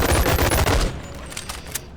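A two-handed ranged weapon hip-fired in a video game lets out a rapid loud burst of shots lasting under a second, followed by fading echoes and a few faint clicks.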